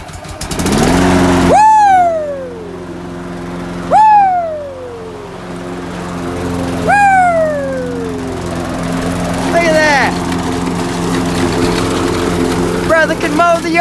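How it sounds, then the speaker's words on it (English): A battery key-start lawn mower engine runs near and loud, with several sharp rising throttle blips whose whine falls away between them, and a steady engine drone underneath. "let's click the throttle again and enjoy another automatic key starter battery charged lawnmower experience."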